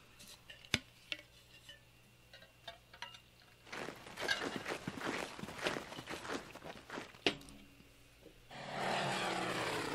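Aircraft in a WW2 Burma Road game passing overhead as a rising, rushing engine drone that swells midway and returns as a steady roar at the end, among scattered footsteps and clanks, with no talk.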